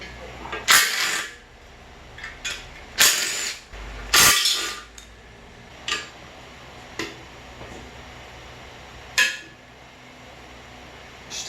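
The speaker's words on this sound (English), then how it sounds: "Just taking out one of the block plugs here, so that way when we clean it, we get more stuff out." A pipe wrench works the plugs out of a K24 engine block, giving a scattering of sharp metallic clanks and ticks at irregular intervals. The sounds are fairly faint against a quiet background.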